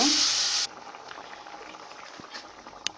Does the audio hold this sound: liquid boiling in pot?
yes